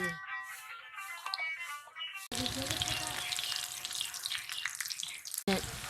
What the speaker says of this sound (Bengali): এবার কড়া গরম হয়ে গিয়ে তেল দিচ্ছি, কড়া দিয়ে দিচ্ছি